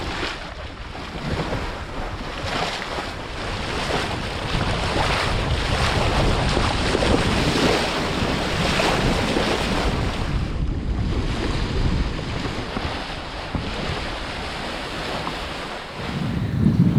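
A sailboat running down the Mozambique Channel through wind and waves, with steady broadband rush of wind across the microphone and surging water along the hull, continuous and fairly loud with no voices.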